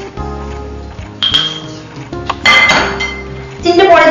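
A metal spoon clinks and taps against a pot or glass while sugar goes into payesh, several bright rings and knocks spread out, with people talking over them.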